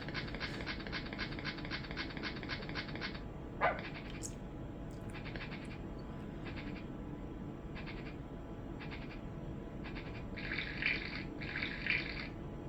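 A cartoon dog pants rhythmically in the Bad Dog computer screensaver, a fast, even run of breathy puffs, followed by a few short barks and scattered pants over a steady background hum.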